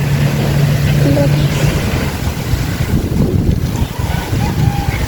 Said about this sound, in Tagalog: Kusog kay hangin kay so?